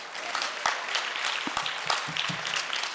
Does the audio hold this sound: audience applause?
yes